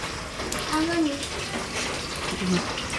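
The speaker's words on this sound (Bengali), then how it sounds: "দেখ জল এসছে নাকি," Water gushing from a household pipe, a steady broad rush running throughout at moderate loudness, with faint voices in the background.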